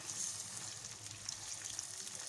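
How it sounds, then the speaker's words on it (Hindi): Chicken pieces frying in hot oil until golden, giving a steady, soft hiss of sizzling throughout, fairly quiet and continuous with no voices. "चिकन को हमने गोल्डन फ्राई करना है।"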